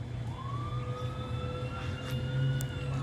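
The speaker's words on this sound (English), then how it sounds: "All you hear is sirens in my neighborhood." Police sirens wail in a neighborhood, a faint, distant, slowly rising and falling tone heard over a low, constant background rumble with no talking.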